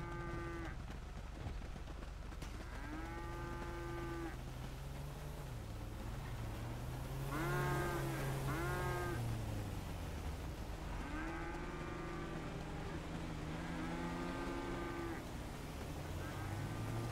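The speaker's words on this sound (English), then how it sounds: "Come on, cute cows." Cattle in the game GTA moo repeatedly, several drawn-out calls coming in overlapping bursts over a steady engine-like drone, with no talking.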